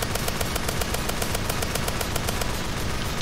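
Rapid gunfire in a Roblox shooter, a steady, evenly spaced stream of loud automatic shots running nonstop throughout, close and dominant with no voices over it.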